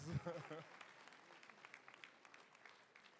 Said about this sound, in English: All right, a warm round of applause.